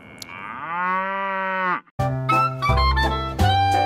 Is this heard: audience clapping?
no